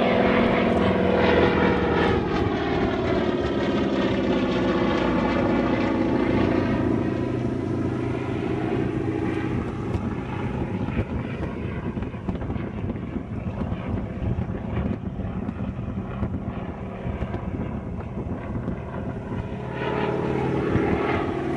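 An RAAF Winjeel propeller trainer flying a display, its engine drone rising and falling in pitch as it passes, loud at first and then easing into a steady distant hum with wind buffeting the microphone.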